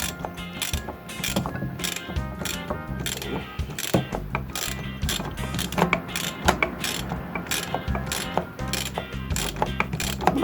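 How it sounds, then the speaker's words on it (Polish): A ratchet clicks steadily as engine bolts are slowly loosened on a Komar 2350 moped engine, rapid metallic pawl ticks in repeated bursts, close and continuous for about ten seconds with no talking. "pomału odkręcam"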